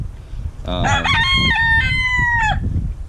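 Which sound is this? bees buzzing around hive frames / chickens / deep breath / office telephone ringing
chickens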